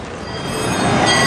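A roller coaster train at Cedar Point rolls closer along the track, a rising metallic rumble with high wheel squeal that grows louder over a brief moment.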